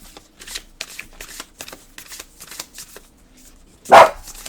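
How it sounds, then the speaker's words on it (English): A dog indoors gives a single loud, sharp bark near the end, following a stretch of quiet scraping and shuffling noises in the room. "He usually doesn't bark this much"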